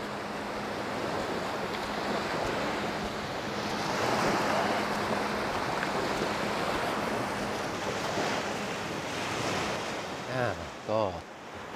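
Calm sea at Hua Hin beach in Thailand, a steady soft wash of gentle waves mixed with wind noise on the microphone, continuous throughout, with someone speaking briefly near the end.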